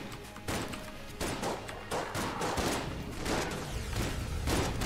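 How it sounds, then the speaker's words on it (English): A shotgun fires repeatedly in the video game Enter the Gungeon, a rapid run of punchy blasts and thuds in quick succession, fairly loud and close. "Let's go with the shotgun."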